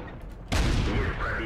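A tank cannon fires in a tank video game, one sudden loud blast that booms and rolls on into a sustained rumbling echo.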